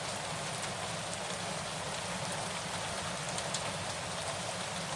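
Rain falls steadily in the countryside, a dense continuous hiss of drops with no pauses or other clear sounds.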